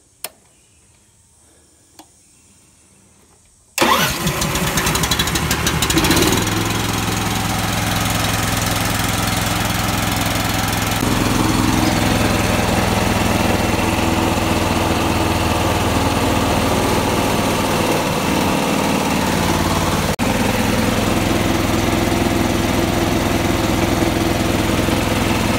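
A Harbor Freight 30-gallon, 13 hp gas truck-mount air compressor starts up after a few quiet seconds, then its engine runs loud and steady with a constant droning rumble for the remainder, alone without talk.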